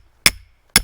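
Two sharp, loud metallic hammer blows, about half a second apart, as a rebar stake is driven into the ground to anchor a trap in the New Jersey woods.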